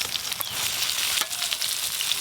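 Mashed pointed gourd and slit green chilies sizzle steadily in a hot pan, a dense, even frying hiss with faint clinks of stirring throughout, no voices.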